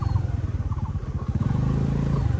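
A scooter engine idles and putters on a village road in the Nepali hills, a steady pulsing throb that picks up slightly partway through, close and moderately loud.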